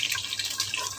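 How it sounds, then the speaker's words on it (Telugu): Cashews fry in hot oil in a pan, giving a steady close hiss with bright, dense crackling and spitting and no voices. "జీడిపప్పు కూడా మంచిగా ఫ్రై చేసుకోవాలి."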